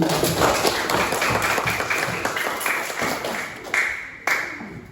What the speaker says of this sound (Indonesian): Tepuk tangan buat Mas Pakai dan Mas AI